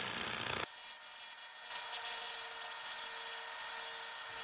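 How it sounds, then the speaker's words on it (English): 2000W continuous wave laser cleaning rust off a very rusty Toyota frame, giving a steady bright hiss and whine with a sharp change early on, continuing evenly and fairly faint. "that's rusty metal being lasered off the surface"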